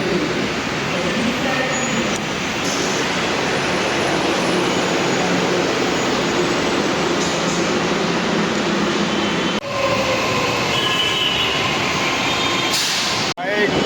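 A Mumbai metro train rumbles into the station with a steady, loud roar and mechanical noise; a brief hiss of brakes near the end, with people talking faintly.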